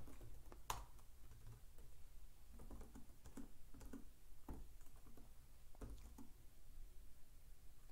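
Keystrokes on a computer keyboard while writing a JavaScript for loop, heard as scattered, fairly quiet clicks in short bursts with pauses between them over a low steady background hum.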